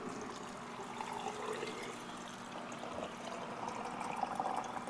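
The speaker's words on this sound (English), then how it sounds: "let's get the shrimp in our mason jar. And we're just going to use a canning funnel" Cooked shrimp being poured through a canning funnel into a mason jar, a steady faint wet sliding and trickling sound that runs continuously at low level with no speech.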